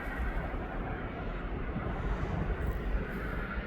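A 23-year-old aircraft at East Midlands Airport produces a steady, broad engine roar and rumble, continuous and fairly distant, with no talking.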